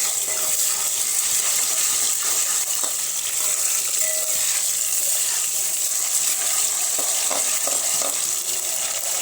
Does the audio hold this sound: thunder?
no